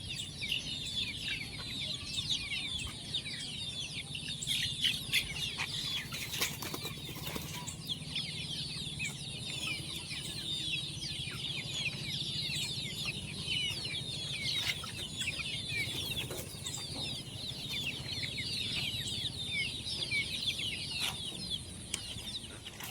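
Fighter roosters on a farm clucking continuously over a busy, dense background chatter of birds, with occasional wing flaps and scuffles, and no voices.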